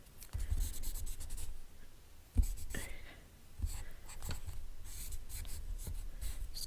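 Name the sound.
blending pencil rubbing on paper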